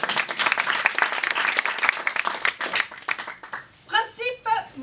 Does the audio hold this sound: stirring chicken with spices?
no